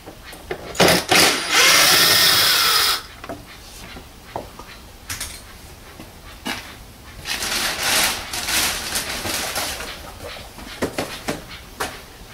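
A power tool whirs loudly for about two seconds while undoing a Torx screw on the engine cover of a 2009 Audi A4 Avant 2.0 TDI, followed by softer clicks, rattles and handling noises of the work.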